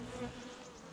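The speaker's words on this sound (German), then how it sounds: "wir haben unsere Bienen im Weg" Honey bees buzzing in a hive opened for a mid-February winter check of food stores, a close, steady low hum with a slight swell at the end.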